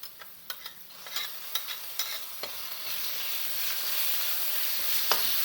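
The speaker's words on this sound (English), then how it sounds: "And fry that for a couple of minutes till the rawness goes from the ginger and garlic." Onions and ginger garlic paste frying in a pan, a steady close sizzle with scattered crackles and a few stirring scrapes, growing slightly louder toward the end, with no talking.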